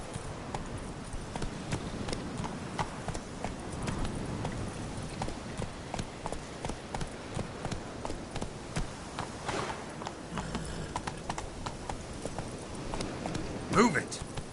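Horse hooves in The Witcher 3 video game, a steady rhythmic clip-clop of galloping near and moderately loud across the whole stretch, with occasional voices over it.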